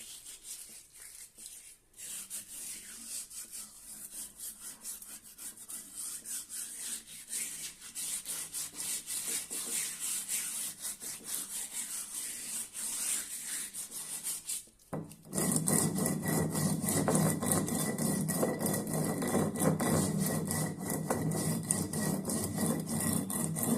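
A stone is rubbed back and forth on a new stone grinding slab to season it, a steady, gritty scraping that runs continuously and grows louder and rougher in the second half, with no talking.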